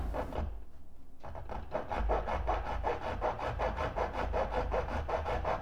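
A hand file rasps across a flat spot on a metal pin in quick, steady back-and-forth strokes, close and continuous after a brief pause at the start.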